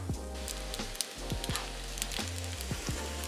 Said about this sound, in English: So we want to get them nice and brown on the bottom. And that'll cook for a bit,